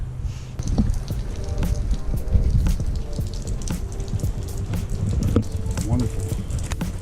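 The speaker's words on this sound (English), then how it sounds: "It's been so rainy." Rain patters and drips steadily on nearby surfaces outdoors during a fishing outing, a dense irregular crackle with scattered sharper drops, close and fairly loud.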